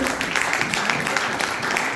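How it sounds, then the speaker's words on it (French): A church congregation breaks into applause, a dense, steady patter of many hands clapping together at close range and fairly loud, with no clear pauses across the short stretch. "Donnez une bonne main d'applaudissement"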